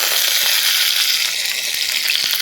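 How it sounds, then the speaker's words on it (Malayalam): Mustard seeds and a couple of dried red chillies sizzle in hot oil for a Kerala dal and drumstick-leaf curry, a steady, close, loud hiss with a few faint pops and no talking. "കടുക് പൊട്ടി വരുമ്പോഴേക്കും ഒരു 2 വറ്റൽമുളക് അതിലേക്ക് ഇട്ട് കൊടുക്കാം."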